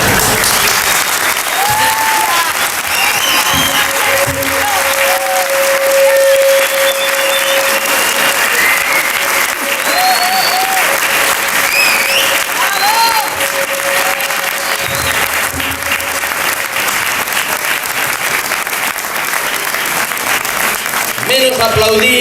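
Sustained audience applause fills the whole stretch, a dense, even roar of many hands from a crowd at a talk, with faint voices and a brief tonal whistle-like sound mixed in.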